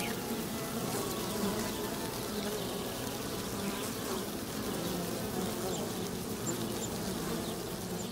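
A wild bee swarm buzzes steadily and densely throughout, a continuous droning hum of many insects close by, with no voices.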